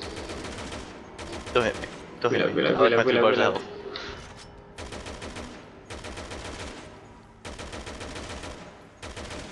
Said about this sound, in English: I use a machine gun on those little zombie faces.